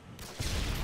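A short, dense burst of video game gunfire erupts loudly after a quieter opening, with overlapping shots packed into less than a second.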